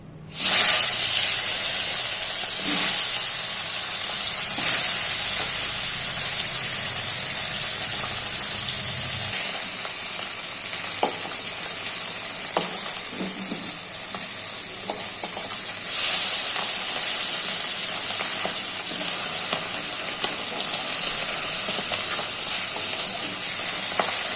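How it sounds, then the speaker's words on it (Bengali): Fish frying in hot oil, a loud, steady hiss and sizzle that carries on without a break, with a few faint clinks and small pops under it and no talking. "তেলটা দিয়ে ধোয়া ওটা শুরু হয়ে গেছে এবার একে একে মাছগুলো ছেড়ে দেবো"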